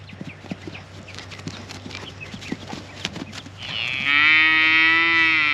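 Hooves clop irregularly across the ground as a cow is turned out to pasture. A loud, drawn-out moo then takes over near the end, close by. No voices are heard.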